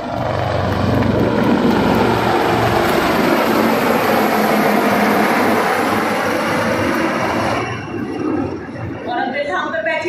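Aircraft of the Sarang formation fly past during a Republic Day parade rehearsal, a loud, steady roar of engines and rotors that fills the air, then eases slightly near the end.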